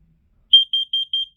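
A photoelectric smoke detector sounds its alarm in four short, evenly spaced, high-pitched beeps. The beeps are loud and clear after a brief silence.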